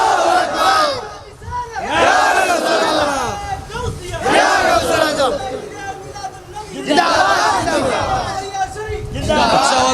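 A large crowd at an Islamic sermon roars back in unison to a takbir call, several loud chanted bursts rising and falling, with babble and voices between them.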